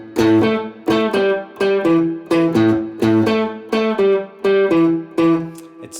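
Electric guitar plays a Chicago box shuffle blues rhythm with a swung long-short eighth-note feel, repeated chord stabs over a walking low-string pattern, played alone and fairly loud.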